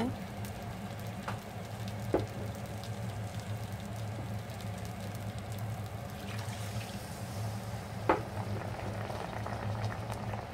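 Beef haleem simmering in a pot after water has been stirred in, giving a steady, close bubbling and sizzling texture with a couple of sharp clinks.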